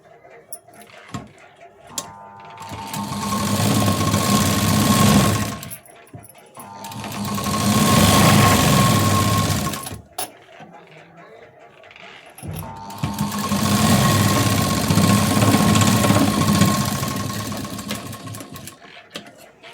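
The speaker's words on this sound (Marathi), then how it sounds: "आता दुसरी शिलाई सुद्धा देऊन घेते." A sewing machine stitches a blouse seam at the fitting, running in three long, steady bursts with short pauses between them. The whirring is close and loud.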